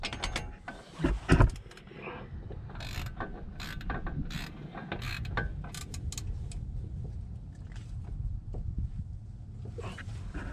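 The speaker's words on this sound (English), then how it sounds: "I'm going to start with a ratchet and I'll come back in there and torque it." Mechanical clicking and clunking from a ratchet snugging up 15mm bolts on a Volvo M56 manual gearbox, close and fairly quiet, with a heavier knock early on and steady background noise throughout.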